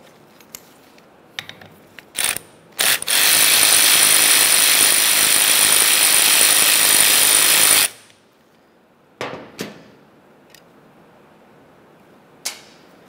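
A hand ratchet works a T30 bolt loose on a 2001-2005 Ford Explorer Sport Trac, with a few sharp clicks, then a loud continuous ratcheting run of several seconds and more scattered clicks near the mic.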